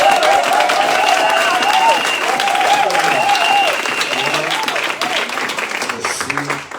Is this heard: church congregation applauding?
yes